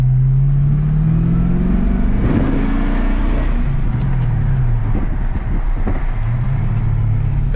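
A loud manual Holden Commodore SS engine revs up through the gears, pitch climbing, dropping at shifts and climbing again, with road and interior rumble throughout.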